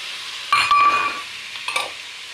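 Onions with tomato and ginger fry in a pan, with a short burst of sizzling and stirring clatter near the start and a softer scrape toward the end. No one speaks.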